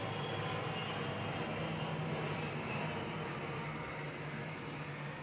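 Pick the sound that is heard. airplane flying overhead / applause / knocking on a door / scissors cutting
airplane flying overhead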